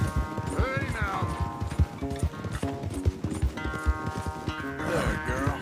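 A horse gallops in the video game Red Dead Redemption 2, its hooves pounding in a quick rhythmic clatter, close and loud, while voices talk over it and a horse whinnies.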